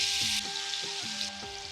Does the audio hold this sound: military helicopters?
no